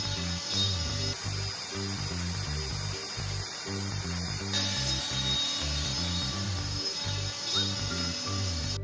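An Atheon CO2 laser cutter working on custom bottle openers, its motion system giving off layered mechanical whirring and humming tones that shift in steady rhythmic patterns, moderately quiet and with no voices.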